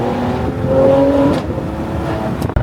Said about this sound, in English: the traction control is coming off. This is called driving a car like it's meant to be driven.